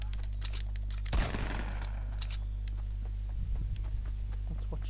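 Gunfire in Fortnite, a sharp burst of rapid shots followed later by a softer second burst, over a constant low hum.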